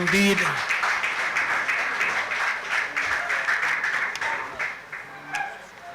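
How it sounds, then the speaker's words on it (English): An audience at a national cannabis symposium gives a round of applause, a moderate crowd clapping that fades slowly while a voice speaks over it. "Give it a round of applause for him."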